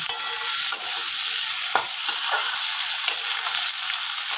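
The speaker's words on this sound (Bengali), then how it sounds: "এবার ভেন্ডি আলুটা একটু আমি ভাজা ভাজা করে নেব।" Okra and potatoes frying over raised heat in a pan, giving a loud, continuous close sizzle with a few scrapes and clicks of stirring throughout and nobody speaking.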